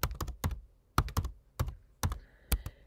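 Keys on a Mac computer keyboard are tapped to enter an IP address for a Kyocera MFP, a close run of crisp, irregular keystrokes in small bursts with short pauses between them.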